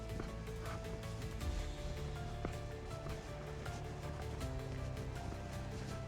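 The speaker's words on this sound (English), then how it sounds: "there's just water pouring all out the side of it here" Water pouring off the side of a mountain road in Spain, a steady, continuous rushing and splashing flow, moderately close and without talk.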